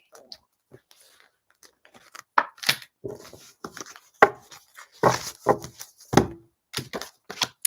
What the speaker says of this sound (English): Fast shuffle.